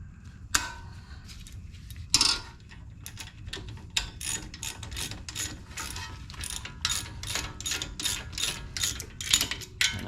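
Ratcheting wrench clicks in rapid repeated bursts while brake caliper bolts on a 2017 BMW X1 are tightened during a front pad replacement, close and fairly loud, with no talk.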